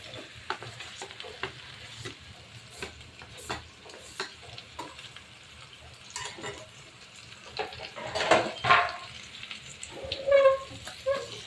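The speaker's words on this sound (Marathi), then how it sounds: "आता हलवून घ्यायचं व्यवस्थित हे बघा आता मी याच्यामध्ये बटाटा घालून घेणार आहे" Potatoes stirred while frying in a pan for a Maharashtrian potato bhaji served with dosa, with a steady sizzle broken by repeated scraping stirs that grow louder and busier toward the end.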